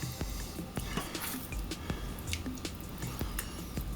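Sweet chili sauce stirred into a creamy chicken sauce in a pan, wet squelching and soft scraping clicks repeating in an irregular rhythm, close and moderately loud.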